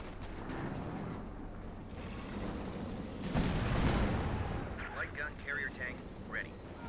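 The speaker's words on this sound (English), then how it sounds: "Good shot on the Puma with the Jacks." In Company of Heroes 2, Jackson tank destroyers fire at a German Puma armored car, and a deep booming shot rumbles through a battle soundscape. A voice talks over the fighting.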